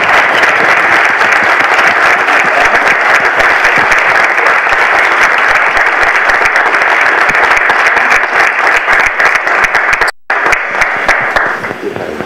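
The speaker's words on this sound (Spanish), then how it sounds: "Despidámoslo por favor con un aplauso." Loud, steady audience applause honoring a lecturer after a conference talk on public procurement ethics, crisp dense clapping throughout with one abrupt brief dropout near the end.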